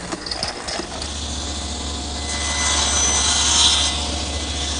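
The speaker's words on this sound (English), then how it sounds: "I've been here at my stationary mortiser, making the mortises in each post." A stationary mortiser cuts mortises into wooden planter posts, giving a steady machine hum with rough rasping chatter from the chisel biting the wood, loud and close with no talk.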